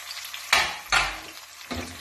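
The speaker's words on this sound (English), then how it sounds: "wait until you hear that sizzle. And once it's sizzling, you're then good to throw the rest of them in" Onion slices hit hot oil in a pan with short bursts of sizzling and frying, three loud surges separated by quieter bubbling, close up with no talking.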